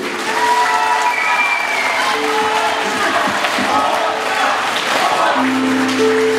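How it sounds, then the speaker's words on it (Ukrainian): A concert audience applauds at a Women's Day and peace event, loud dense clapping that holds steady throughout with some cheering mixed in, while faint musical tones sound underneath. "Ваші оплески."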